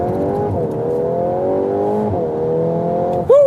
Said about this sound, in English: That was 0 to 100 kilometers acceleration